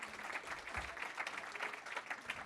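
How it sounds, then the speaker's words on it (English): An audience at a neighbourhood coworking event applauds a speaker's introduction, a steady, fairly faint patter of clapping throughout with a soft low thump near the start. "I would like a much bigger round of applause for that."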